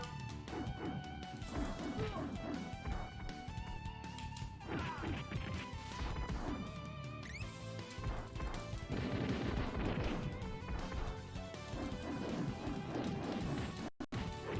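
A bomb explodes in The Ninja Saviors video game with a loud crash, mixed with other impacts over continuous, dense game music.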